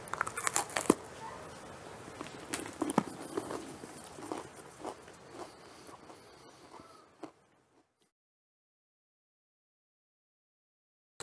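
Crunchy bites into homemade Oreo Christmas bark layered with salted toffee, pretzels and M&Ms, a quick run of close, sharp crackling snaps over several seconds, then silence.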